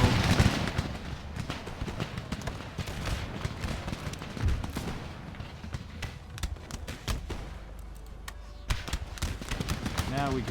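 Musket volleys crackle in the Empire Total War strategy game, dense rolling gunfire bursts repeating across the battle, loud and close, with someone speaking over the shots.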